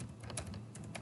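Soft, quick keystrokes on a computer keyboard while C++ code is typed into a new file, faint and steady over a quiet room.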